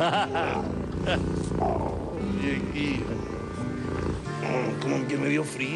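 A voice imitates a puma purring with a low, rough rumble, mixed in with his Spanish speech.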